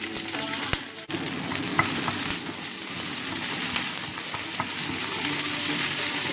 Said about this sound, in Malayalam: ഞാൻ ഉണക്കമുളകും വേപ്പിലയും ഇടുന്നു.